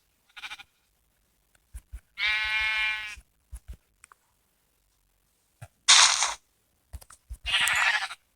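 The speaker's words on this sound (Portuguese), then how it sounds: "uma ovelha ali." Sheep in a video game bleat several times, one long wavering bleat and two bright, rasping ones, loud and close, with short clicks and taps between them and no talk.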